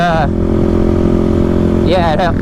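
A Kawasaki KLX300 and KLX351 dual-sport motorcycle racing side by side on a road, loud droning engines with rising and falling revs and a steady wind roar, close up with no talk.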